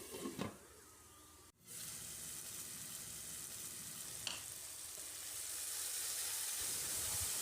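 Tomatoes sauté in oil for a chicken gravy with a soft, continuous sizzle. A brief clatter of a utensil comes near the start, and the frying hiss grows slightly fuller toward the end. No one talks.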